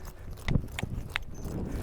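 A horse's hooves strike the ground in three or four separate clip-clop beats during bridleless training, soft and moderately close against a quiet background.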